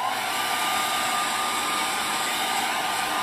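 A steady, loud whooshing hum of a hair dryer blowing nonstop at close range, with no voices.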